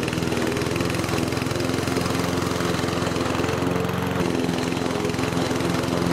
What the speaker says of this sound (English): And here it is at my house, breaking through some thick overgrown Bermuda that's in the midst of a battle with Dallas grass.